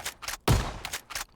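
A single heavy shotgun blast booms loudly in a PUBG match, one sharp close shot amid quieter in-game clicks and rustle, with no talk.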